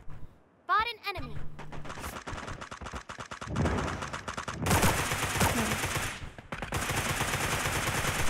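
Gunfire rattles through a Sausage Man battle royale match, with rapid automatic bursts and sustained volleys in a duo-versus-squad fight, while players talk over the shots.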